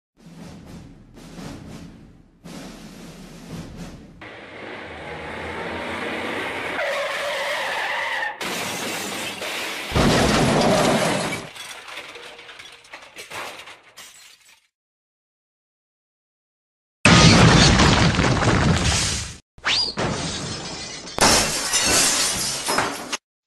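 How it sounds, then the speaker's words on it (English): A car skids and crashes into searchlights on a structure, with glass shattering, in an animated short: long tire screech and loud impacts, a sudden silence, then bursts of breaking glass and debris. "failed miserably by crashing into the searchlights on the Fox structure"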